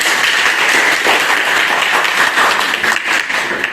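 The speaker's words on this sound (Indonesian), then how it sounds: "Kembali berikan aplaus." A seated audience claps in sustained, dense applause, loud and close, with no break for the full few seconds.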